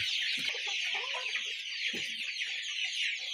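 Ten-day-old Bahama chicks peeping and clucking together in a steady, busy chorus, with a few sharper calls rising above the continuous high chatter.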